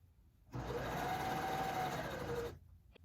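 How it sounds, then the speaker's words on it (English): A sewing machine stitches a fabric surgical scrub cap in one continuous two-second run of steady, close whirring, starting and stopping abruptly with quiet on either side. "And you're going to sew that whole area"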